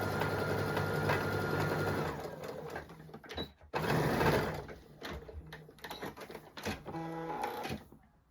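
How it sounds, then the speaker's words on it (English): A sewing machine stitches a dart in scrap fabric for a tailor's ham, running in close, fast mechanical bursts that stop and restart as it back stitches, with brief pauses in between. "So move my needle into the central position, and back stitch at the beginning and end of the dart."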